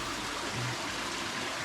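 Water rushing through a flooding cave, a continuous, even roar of flow filling the space without a break.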